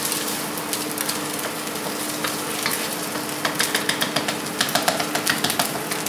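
Egg for fried rice frying in a hot wok, a dense continuous sizzle with crackling spatters that grow busier and louder toward the end, close and without talk.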